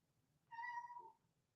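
A house cat meows loudly at a door, one drawn-out cry lasting about half a second over a quiet room background, with no talking.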